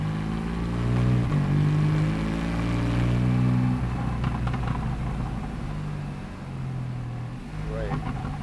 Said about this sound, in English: at low speed, it really has that grunt and that burble from the exhaust